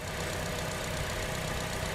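Chevrolet Cobalt engine idling with piston slap, heard up close as a steady, dense broadband rumble with a faint rapid ticking knock running through it and no talking.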